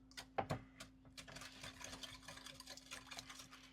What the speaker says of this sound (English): We're gonna whisk this up.